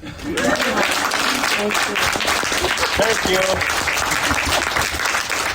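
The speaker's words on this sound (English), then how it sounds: "Round of applause for Pam and Jerry." An audience applauds after a Halloween movie screening, a dense, loud, sustained round of clapping, with a voice speaking briefly over the start.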